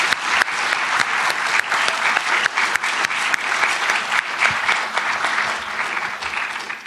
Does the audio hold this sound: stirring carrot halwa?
no